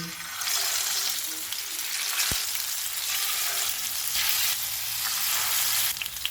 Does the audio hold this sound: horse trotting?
no